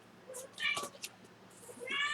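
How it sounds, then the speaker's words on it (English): A house cat in a kitchen gives a few short, fairly close meows spread over a couple of seconds against a quiet room. "Do you hear my cat meowing at me?"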